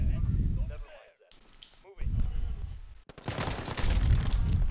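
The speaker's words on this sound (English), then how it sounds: "Oh, I'm getting shot at." Gunfire in the video game Call of Duty: Modern Warfare, dense bursts and loud cracks that come in two spells with a short lull between them, under players talking.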